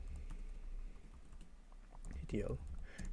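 Quick clicks of fingers typing a command on a computer keyboard at a desk, fairly faint and steady, with a low background hum and a brief murmur of voice near the end.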